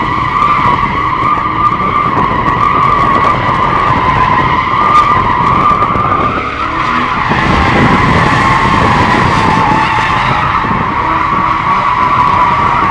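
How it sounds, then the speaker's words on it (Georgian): A BMW X3M drifting, its tires skidding and squealing in a loud, continuous screech over a roaring engine for the whole stretch, with a brief dip midway. "გაშალე დრიფტი, მეტი გაზი."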